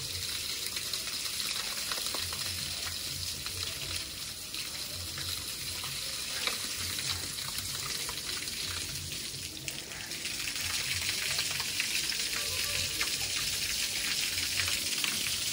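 Water sprayed over newly built concrete on a home construction site to cure it, a steady, continuous hiss of spray that holds at an even level throughout with no talking.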